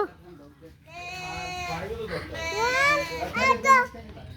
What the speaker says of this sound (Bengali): দুইটা গরুর সাথে একটা ছাগল, ডাকো তো